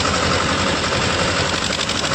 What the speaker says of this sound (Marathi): बघा किती जोरात चालवतो आहे ट्रॅक्टर